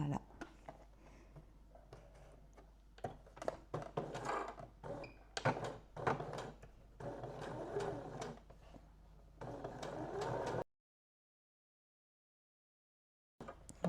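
A sewing machine topstitches a dart in a steady, busy mechanical run mixed with talking, then stops abruptly into silence.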